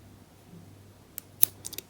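Scissors snip yarn during crochet work, producing a few quick, close, crisp cuts in a cluster near the end of an otherwise quiet moment.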